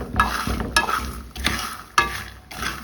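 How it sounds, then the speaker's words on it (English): Groundnuts frying in a pan over a low gas flame, giving a soft continuous sizzle with repeated scraping stirs roughly every half second, close and steady with no talking. "So, I'll keep frying. Remember, on a low heat."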